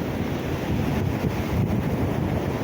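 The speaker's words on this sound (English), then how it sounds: "And it is very windy" Strong wind roars through a snowy mountain town during a blizzard, a loud, steady, close rush that buffets the microphone for the whole stretch, with no talk.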